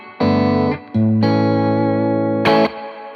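Electric guitar chords through a Ventris reverb pedal on its spring setting ring out in bursts with a splashy, reverberant tail between them, a drippy Fender-amp-style spring reverb on a clean tone.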